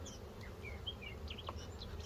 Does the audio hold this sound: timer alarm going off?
no